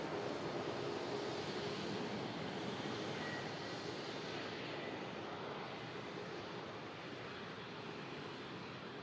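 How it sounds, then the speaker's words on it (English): A private Silver Aviation aircraft flies past with a steady, broad engine roar that holds for the whole stretch at moderate distance and fades only slightly. "I think it's that, Silver Aviation aircraft"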